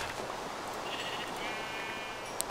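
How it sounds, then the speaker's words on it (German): Sheep in the video game Minecraft bleat softly, a couple of faint wavering calls rising over a steady hiss of background game ambience, with no talking. "So, da hinten sind noch Schafe, falls ich noch Schafe brauche."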